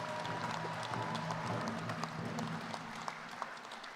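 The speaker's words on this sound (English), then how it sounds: "Let's give them another round of applause," Applause from a college commencement audience, a steady, moderately distant patter of many hands clapping that holds throughout without a break.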